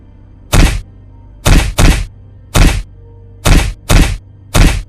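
Heavy blows land on a man in a staged fight: seven loud, close, dull thuds come in uneven pairs and singles, with quiet gaps between them and no talk.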